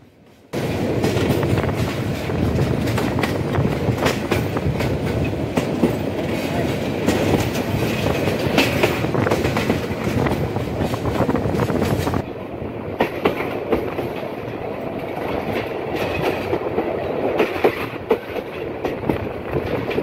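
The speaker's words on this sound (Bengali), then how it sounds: "এই ট্রেনের কী পরিমাণ ভিড় হয়, কারণ এই ট্রেনটি কিন্তু প্রচুর পরিমাণে পপুলার এই রুটে" Tista Express passenger train running through a Gazipur railway station on the Dhaka to Dewanganj Bazar route, with a loud steady rumble and rhythmic wheel clatter throughout, easing slightly to a lower roar in the final seconds.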